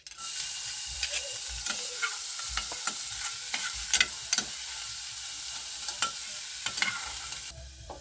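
Garlic fries in a little oil in a pan, giving a loud, continuous close sizzle with repeated scraping strokes from stirring. The sizzle stops abruptly near the end, and no one speaks.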